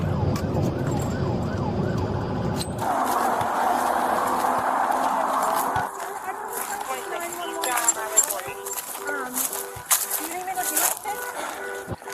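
A stolen police car's wailing emergency siren rises and falls, then shifts to a different yelping tone, with a voice talking over the traffic noise.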